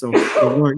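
A single sneeze bursts out mid-conversation between people talking about anime conventions, loud and close, with voices continuing around it.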